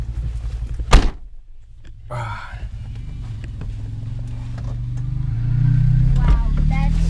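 A single solid car door thunk on a Daihatsu Gran Max as someone climbs in, followed by low engine rumble and rustling inside the cabin.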